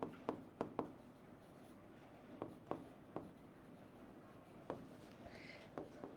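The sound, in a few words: writing phrases in boxes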